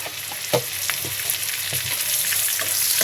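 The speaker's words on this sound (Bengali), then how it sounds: "এখন পেঁয়াজ কুচানো দিয়ে দিলাম, ভেজে নেব" Chopped and ground onion frying in hot oil, a loud continuous sizzle with occasional stirring scrapes and knocks, no one talking.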